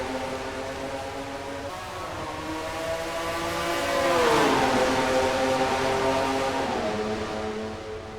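A pack of race cars accelerates off the green flag start in a racing video game, the engines' droning pitch rising and falling in overlapping waves, swelling louder toward the middle and then easing off.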